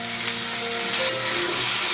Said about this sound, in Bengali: এবার লোটে মাছটা দিয়ে দিচ্ছি।